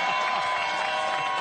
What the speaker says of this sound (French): Applaudissements pour Coé, mesdames, messieurs.